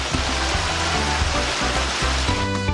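A forest waterfall roars as a steady, close rush of falling water, loud and continuous with no voices.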